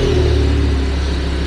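A Donkervoort D8 GTO-40 sports car's engine idles through its standard exhaust, a loud, steady, deep rumble with a pulsing low throb and no voices.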